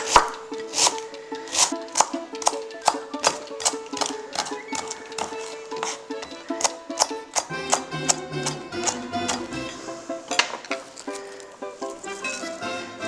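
Half a small cabbage head is chopped with a knife on a board, a quick run of sharp, evenly spaced close chops followed by slower, irregular cuts and crunching.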